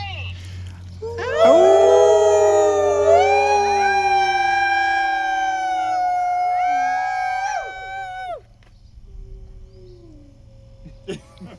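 A group of people at a wolf and wildlife center imitate a wolf howl together, many overlapping voices sliding up and holding long, loud wavering tones for several seconds before trailing off into quieter, scattered sounds.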